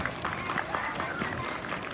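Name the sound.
audience applause at a dance festival concert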